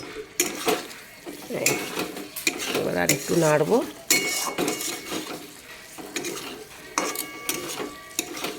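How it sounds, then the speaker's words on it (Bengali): Green peas are stirred in a metal cooking pan, with a utensil scraping and clinking against the pan in busy bursts over a light sizzle. "এবার আরেকটু নাড়ব"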